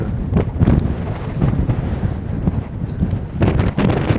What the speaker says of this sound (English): it's very windy all the time too